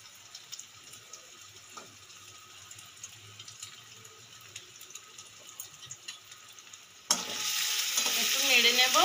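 Boiled potato dropped into spice masala in a hot pan and stirred: several seconds of near quiet with faint clinks, then a sudden loud, close sizzle that fills the last couple of seconds.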